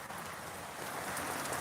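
Wind-driven rain blows sideways outdoors, a soft, steady hiss of drops that builds slightly in intensity, with no talking.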